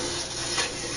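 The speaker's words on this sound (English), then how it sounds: "Every time you order a hot sub from Jersey Mike's, it's grilled fresh right in front of you." A hot sub sizzles on a Jersey Mike's grill, a soft steady frying hiss heard close but quietly for about a second, with a faint scrape swelling midway.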